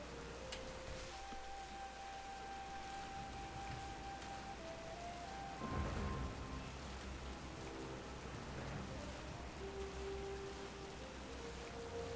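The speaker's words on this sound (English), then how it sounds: "And of course it's raining." Steady rain hisses across a surface throughout in Pokemon Violet, with tonal game-like chimes and a brief low rumble partway through.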